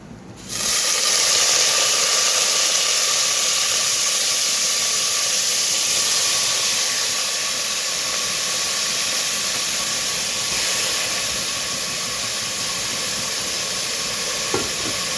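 Cut barabati broad beans drop into hot oil and set off a sudden loud hiss. The close, steady sizzle continues unbroken and eases only slightly over time.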